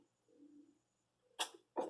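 Near Mayan ruins at Palenque, a short, close sneeze bursts out after near-silence and a faint soft murmur, followed quickly by a second sharp burst.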